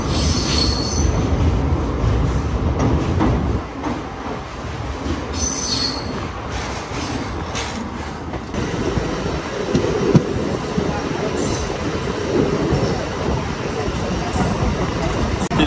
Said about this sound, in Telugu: అండ్ ట్రైన్ అయితే ఇంకే స్పీడ్లో పోతున్నాడు